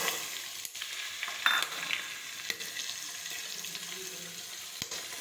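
Peas frying in oil for undhiyu, a close, moderate sizzle with scraping stirring clicks and a few sharp knocks against the pan.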